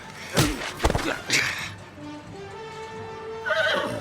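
A horse whinnies loudly nearby, a shrill rising neigh followed by snorting and a trailing call, with a few hoof thuds underneath.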